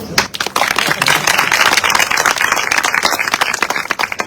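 A devotional gathering's audience breaks into steady, loud applause, many hands clapping together in a continuous wash that holds at full strength throughout.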